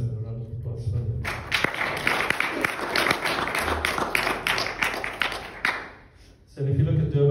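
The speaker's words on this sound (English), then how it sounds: "I think he needs a round of applause for him." An audience at the UKZN Hindu Centre breaks into applause, with many hands clapping steadily for about five seconds between stretches of someone speaking.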